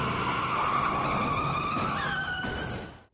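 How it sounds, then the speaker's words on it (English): Cars skid and spin off a road in a game sound demo, a sustained tire squeal that rises in pitch partway through, loud and close, over rumbling engine noise before cutting off sharply. "as other cars spin off the road around you"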